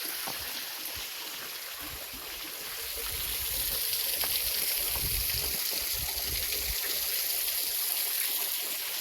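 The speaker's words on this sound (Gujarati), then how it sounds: "તો ભાઈ આવું ઝરણું તો હે ને તમે કોઈ દી નહીં જોયું હોય." A mountain stream rushes and trickles near a hidden waterfall in Gujarat, a steady broadband wash of flowing water that swells slightly louder partway through, with no voices.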